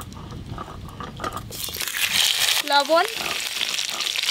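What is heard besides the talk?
potatoes frying in mustard oil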